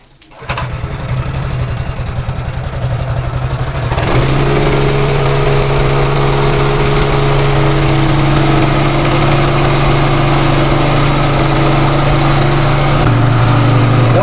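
A small motorcycle engine starts up and settles into a steady, loud idle that chugs on evenly for over ten seconds, with no voices.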